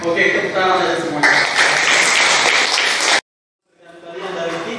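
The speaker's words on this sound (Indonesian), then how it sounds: "Oke, tepuk tangan saja semuanya." A class claps together in a classroom. A dense burst of applause swells in the middle and stops abruptly, with voices talking before and after.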